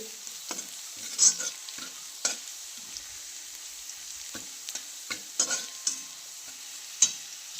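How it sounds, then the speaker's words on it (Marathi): Green chillies fry in a wok, heard as a faint steady sizzle broken by scattered light stirring scrapes and taps, with no voices. "थोड्या मिरच्या तळून घेतल्या त्या मिरच्या तळून त्यावर मीठ टाकले"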